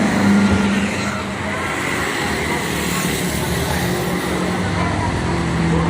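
A new PT Rapi coach bus pulls in at a roadside stop, its steady engine rumble and road noise continuous and fairly loud throughout, with someone talking over it.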